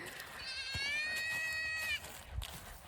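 A baby goat that has escaped bleats one long, wavering, high-pitched call for its mother, fairly close, followed by faint rustling outdoors.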